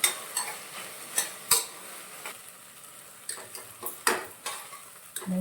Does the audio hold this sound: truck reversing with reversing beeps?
no